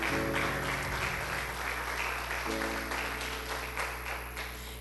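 A church congregation at a Wednesday worship service applauds throughout, a steady dense wash of clapping mixed with sustained organ or keyboard tones and a low hum, fairly loud and even across the whole stretch.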